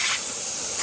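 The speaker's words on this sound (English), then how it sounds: "We will still be able to see the steam coming out through here, as you saw right there." Steam spraying from a Jura Z6 coffee machine, a loud, steady close hiss of pressurized steam holding evenly throughout the short burst.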